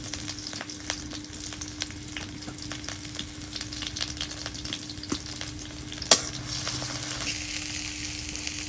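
Chopped onion and green chili frying in a pan, a steady low sizzle with scattered stirring clicks and one sharper metallic knock, close and with no voices.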